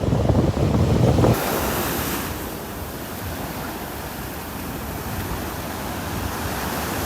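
Ocean surf rolls steadily onto a beach in North Naples, Florida, a continuous broadband wash with strong wind buffeting the microphone at the start, then a softer, sustained churning roar.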